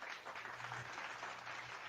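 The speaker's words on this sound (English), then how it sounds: "Round of applause for everybody." Applause from a studio audience on a hunting-themed show, a dense steady wash of clapping sustained throughout, moderately distant with no voices.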